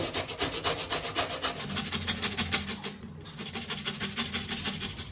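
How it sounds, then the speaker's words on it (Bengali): A bottle gourd rubbed steadily against a fine grater, a rapid run of even scraping strokes that stay close and loud, with a brief drop in the middle before the rhythm resumes. "এইভাবে আমি সমস্ত লাউটা ঘষে নেব।"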